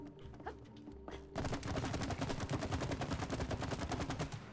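Rapid automatic gunfire in the co-op video game It Takes Two, a sustained burst of quick repeated shots that starts abruptly after a short quieter stretch and carries on loud to the end.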